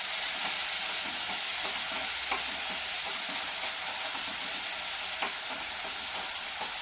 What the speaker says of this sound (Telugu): పచ్చిమిర్చి, వెల్లుల్లిపాయ, జీలకర్ర వేసేసి స్టవ్ సిమ్లో పెట్టుకోవాలి. ఇది కొంచెం వేగాలి మనకి